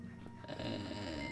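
A ghost dog in the Luigi's Mansion 3 video game pants and snuffles with steady, breathy, snore-like rasps, fairly quiet and close, with no talking over it.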